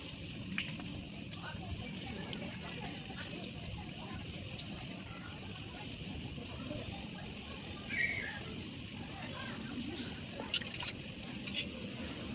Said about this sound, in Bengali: তেলে কিন্তু দেওয়ার সাথে সাথে আমের বড়াগুলো খুব সুন্দরভাবে ওপর দিকে ভেসে যাচ্ছে